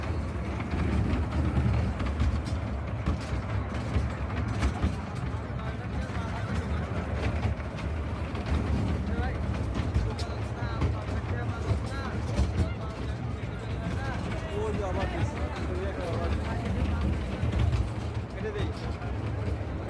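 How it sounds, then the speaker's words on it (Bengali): A children's toy train runs at a crowded Shani Akhra village fair, its rumbling engine and wheels making a steady low drone under loud crowd noise and someone talking close by throughout. "বাচ্চাদের ট্রেন বাচ্চাদের ট্রেন এই যে দেখুন"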